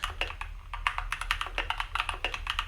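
Fast typing on a Keychron K2 v2 mechanical keyboard, a close, steady stream of crisp clacky keystrokes in an uneven rhythm, heard alone without voices.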